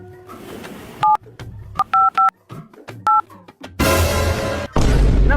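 Mobile phone keypad tones beep in short, evenly spaced bursts as a number is dialed, with soft handling noise between presses, then a louder burst of noise at the end.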